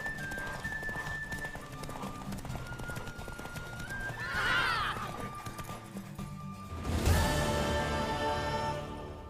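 In the video game The Witcher 3: Wild Hunt, galloping hooves clatter steadily beneath busy background noise, with a horse's whinny rising briefly in the middle and a louder crash of activity near the end.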